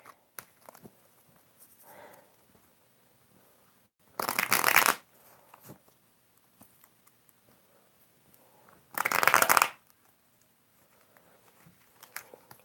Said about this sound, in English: I already shuffled, but I'll shuffle a little bit more.